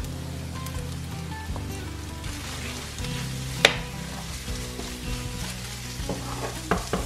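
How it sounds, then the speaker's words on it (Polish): Chili, turmeric and curry powder frying in a pan for chicken satay, a steady close sizzle with stirring scrapes and one sharp clink partway through. "Teraz niech się przesmażą też przyprawy, ale już nie za długo, żeby one się nie przypaliły"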